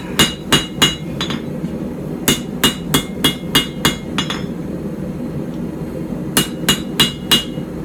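A hammer strikes a puukko knife blade at the forge to straighten it, ringing metallic blows landing close and loud in quick clusters of two to five, separated by short pauses.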